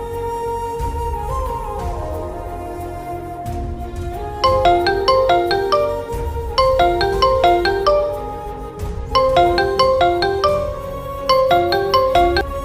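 Melodic mobile phone ringtone plays for an outgoing call: a bright repeating tune of short, evenly spaced notes, steady and fairly loud, with no voices.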